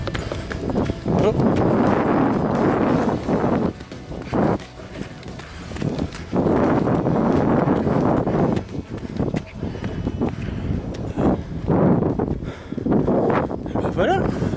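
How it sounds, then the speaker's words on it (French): Strong wind buffeting the microphone outdoors, loud gusty roaring bursts that rise and fall with brief lulls, with a voice speaking between gusts. "Je cherche le sens du vent pour que vous m'entendiez un peu"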